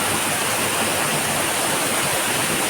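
Honan Falls in Isabela cascading nearby, a loud, dense, continuous roar of falling water filling the whole clip without breaks or voices.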